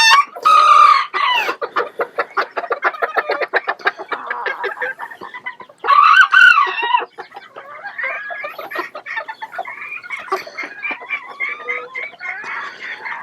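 Bantam hens cluck busily in rapid, choppy bursts while a rooster crows loudly twice, once at the start and again midway, all close by and filling the space.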